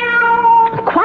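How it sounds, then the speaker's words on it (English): Cat meowing as a sound effect in a 1974 CBS Radio Mystery Theater drama, one long loud tonal meow that rises into a second, shorter wavering cry, close and alone. "Quiet out there, cat."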